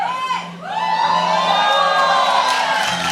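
A church congregation lets out a loud, sustained collective shout and cheer, many voices whooping together in a large hall, rising after a brief dip and holding strong throughout.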